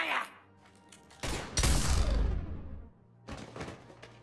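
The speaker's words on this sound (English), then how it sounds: "Now open fire!" Gunfire in the sci-fi shooter Mass Effect 3, a close burst of heavy shots with a loud, sustained volley in the middle and further shots near the end.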